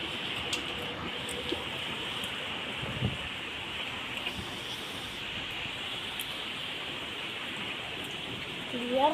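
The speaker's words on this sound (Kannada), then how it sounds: "ನೋಡ್ರಿ ಎಷ್ಟು ಮಳೆ ಐತ್ರಿ. ಭಾಳ ಐತ್ರಿ ಮಳೆ." Heavy rain falling outdoors, a steady broadband hiss of drops throughout with occasional close taps, fairly even and continuous.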